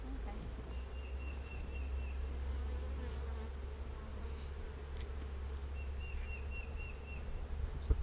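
Honeybees buzzing at a hive entrance make a steady, low, droning hum throughout, with faint bird chirps in the background.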